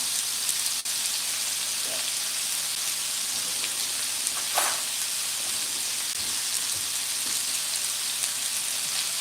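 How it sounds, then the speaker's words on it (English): Mushrooms and onions searing in butter in a pan, a steady close sizzle with occasional small pops and stirring clicks throughout. "Now I'm going to add in a little bit of butter into our mushrooms."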